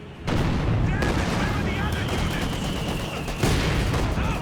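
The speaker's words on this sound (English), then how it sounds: "Taking enemy fire." Gunfire and heavy artillery fire crash through a World War II battle in the strategy game Company of Heroes 2, loud and steady, with sharp booms near the start and again toward the end.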